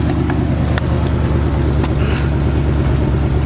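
An El Camino's engine idles in a loud, steady low rumble close by, with a throaty exhaust burble throughout.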